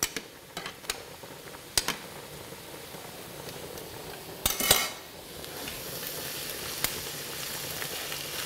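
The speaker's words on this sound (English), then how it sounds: "Just going to stir my pasta." Pasta being stirred in a pot on a stovetop while tomatoes and onions cook nearby, giving soft scraping and clinking of a utensil against metal over a steady low sizzle, with a few sharper taps.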